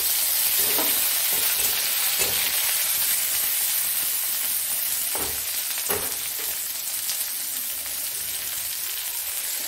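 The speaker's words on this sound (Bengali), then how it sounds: "এবার একটা টমেটো দিয়ে দিলাম।" A tomato drops into red-fried onions in a pan while cooking Bengali alu posto with curry leaves; a steady close sizzle fills the clip, broken by a few sharp scraping stirs of the spoon. No one speaks.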